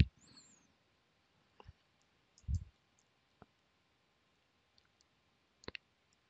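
A computer mouse gives a handful of faint, sparse clicks, spaced irregularly in a quiet room.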